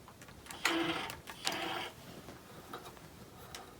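A quilting machine sews stitch-in-the-ditch along the piecing of a quilt block, with two short bursts of close whirring stitching followed by a few quieter clicks and soft taps.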